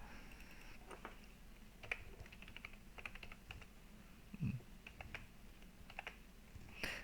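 Keys tapped on a computer keyboard while text is entered into a merged spreadsheet cell, coming as faint, irregular clicks spread over several seconds, with a slightly stronger tap near the middle and another near the end.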